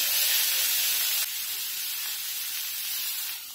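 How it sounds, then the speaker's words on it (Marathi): Chopped onion dropped into hot oil with cumin seeds, giving a loud, steady hiss of sizzling that softens slightly partway through and fades at the end, with no talk. "तेल आहे ना छान गरम झालंय, जिरं एकदम गरम झालंय, कांदा टाकून घेऊया"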